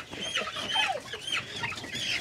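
Pullets being moved to a free-range area cluck and chatter steadily nearby, with overlapping bird calls forming a busy flock sound throughout.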